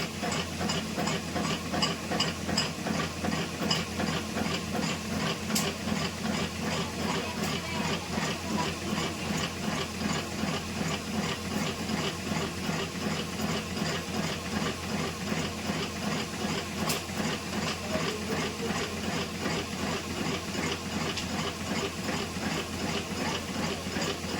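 A batasa sugar candy making machine runs steadily, a continuous mechanical drone with rapid repetitive clatter and hiss, loud and close, with no talk.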